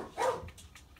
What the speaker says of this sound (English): The dog thinks somebody's at the door.